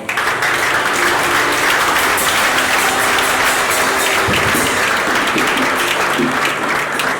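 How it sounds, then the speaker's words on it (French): A church congregation breaks into loud, sustained applause that fills the room evenly for several seconds, with no speech on top. "Acclame pour la parole."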